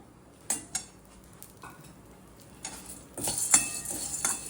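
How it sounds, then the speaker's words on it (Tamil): Chana dal being stirred in a little oil in a pan: scattered scraping and clinking strokes, then a denser stretch of stirring and faint sizzling toward the end, close and fairly quiet. "அந்த இதுலேயே போரும் கடலைப்பருப்பு வறுத்துக்கணும்."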